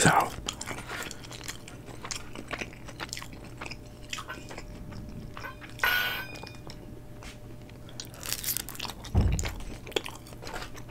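Crunchy bites and wet chewing of Little Caesars Crazy Puffs dipped in sauce, close-up and intimate, with a few sharp crunches and clinks over soft mouth sounds.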